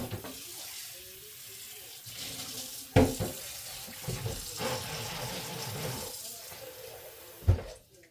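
Running tap water rinses something off in a sink, a steady continuous splashing hiss with a couple of sharper clunks partway through; no voices.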